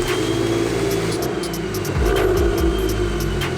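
A damaged BMW N54 engine in an E90 335i runs on only two cylinders, making a loud, uneven rough rumble that swells into a heavier rev partway through, recorded close up.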